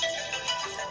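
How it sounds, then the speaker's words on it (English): A phone ringtone sounds for an incoming call, a short bright electronic melody of warbling tones, loud and close with no talking. "I'm getting a phone call."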